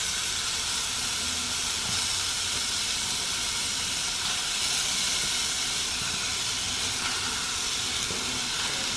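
A Dash egg bite maker filled with figs for an upside-down fig cake lets out a continuous soft hiss of escaping steam, steady and close throughout, with no talking.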